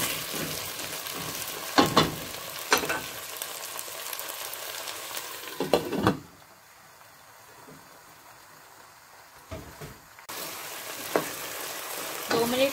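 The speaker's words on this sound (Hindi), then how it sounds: "अब हम इसमें आलू शामिल करेंगे और इनको भी एक से दो मिनट फ्राई करेंगे।" Potato pieces fry in hot oil flavored with fenugreek, giving a steady close sizzle broken by several sharp stirring scrapes and clatters, with a brief quieter stretch midway.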